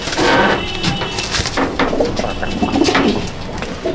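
Imported teddy pigeons coo steadily in a loft, a dense, close layer of overlapping low calls with wing and perch noises scattered through.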